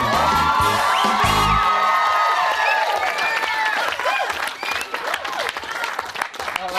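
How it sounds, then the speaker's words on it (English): A comedy show crowd bursts into loud applause with cheering and whoops, a thick wall of clapping at first that thins out gradually, with scattered shouts on top. "Please give him a clap"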